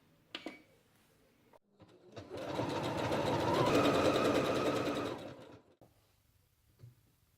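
A sewing machine stitches a decorative feathery stitch, a steady close mechanical whirr lasting about three seconds, framed by a few light clicks and handling knocks before and after in a quiet room.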